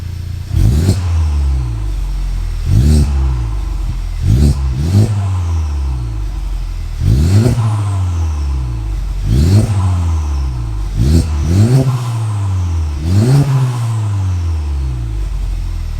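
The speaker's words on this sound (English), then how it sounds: "Let's give it some revs and see what it sounds like." A Honda Civic Type R FK8 with a new downpipe, parked and warmed up, is revved repeatedly. Its engine gives about eight sharp, loud blips that each rise and fall back to a steady idle.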